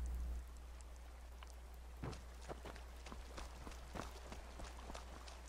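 Rain falling in the video game Skyrim Remastered, a steady soft patter with scattered footstep-like taps, faint and continuous throughout.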